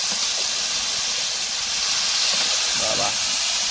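Garlic and onion tempering poured into hot oil, a loud steady hiss and sizzle close by that holds for several seconds, with a faint voice under it.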